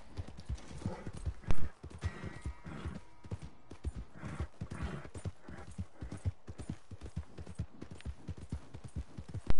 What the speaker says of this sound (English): This is my horse Sugar right here